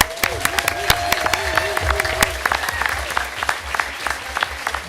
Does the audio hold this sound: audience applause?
yes